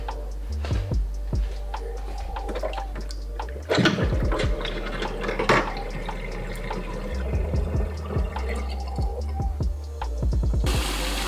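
A new cast iron pan gets scrubbed in a sink after an hour of soaking, with scraping strokes, clinks and splashing water. Running water fills the background and a brief spray comes in at the end.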